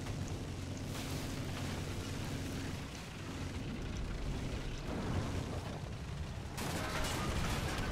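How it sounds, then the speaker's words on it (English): A machine gun fires in War Thunder, heard as a dense, continuous roar of rapid fire with a couple of sharp bursts, steady and loud throughout with no talking. "that machine gun's good"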